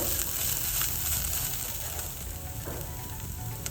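Chicken cooking in a pan for a Turkish chicken soup: a continuous close, loud sizzle of frying with a few faint stirring scrapes. No voices can be heard.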